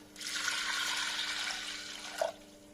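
Water pours steadily into a pressure cooker holding roasted cowpeas, a close, continuous splashing stream that stops with a small final splash near the end.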